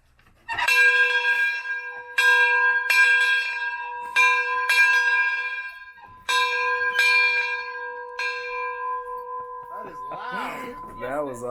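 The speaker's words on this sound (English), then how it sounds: "we don't always have a dinner bell that announces dinner" A dinner bell rung at Ladder Ranch on a Great Divide bikepacking trip, in several loud, ringing strikes with long sustained tones, each repeated a few times before fading as people start talking near the end.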